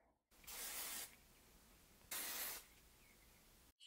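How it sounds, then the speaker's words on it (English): AG Care Ultra Dynamics Long Lasting Hold hairspray hisses out in two separate aerosol bursts of about half a second each, close and fairly loud, with quiet between them. "Hairspray is by AG Care Ultra Dynamics Long Lasting Hold."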